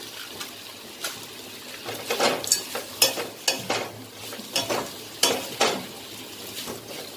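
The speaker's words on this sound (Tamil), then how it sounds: "தேங்காய் சேர்த்து அதையும் நல்லா வதக்குங்க" Grated coconut is sautéed in a pan for mint chutney: a spatula scrapes and taps against the pan in irregular bursts over a gentle frying hiss, with no talking.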